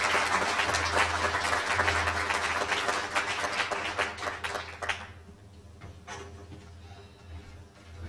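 An audience applauds Police Chief Eddie Garcia at a Dallas meeting, with loud, dense clapping filling the room for about five seconds before fading to scattered claps and quiet.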